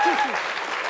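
Studio audience at a Georgian student book quiz show breaks into brief, steady applause, a dense wash of clapping with faint voices mixed in.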